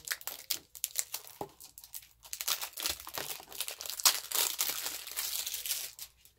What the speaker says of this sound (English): I'm going to unplastic it.